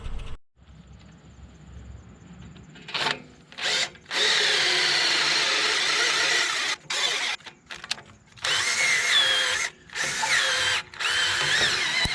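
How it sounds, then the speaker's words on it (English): A power drill drills holes in channel iron close by in repeated bursts, whirring loud as it spins up and then stopping, several times in succession with short pauses between. "So I'll have to drill some holes in that"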